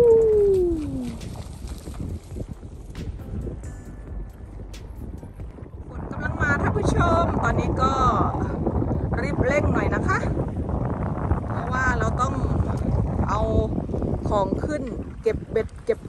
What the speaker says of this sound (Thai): เพราะลมแรงมากเลย